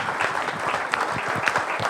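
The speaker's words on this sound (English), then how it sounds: "a round of applause for all the candidates tonight" Audience applause for candidates at a Christchurch electorate debate: a short burst of many hands clapping with a close, uneven rhythm at moderate level.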